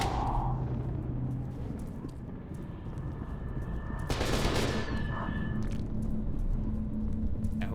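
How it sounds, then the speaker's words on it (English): Gunfire in the video game F.E.A.R. 2: Project Origin, a steady rattling stream of shots and combat noise with one sharper, brighter burst near the middle, loud and continuous throughout. "Yeah, who else is shooting at me?"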